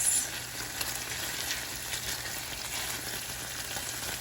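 Chicken sautés in a pan with a steady, close hiss of frying that carries on unbroken, with faint stirring texture underneath and no voices.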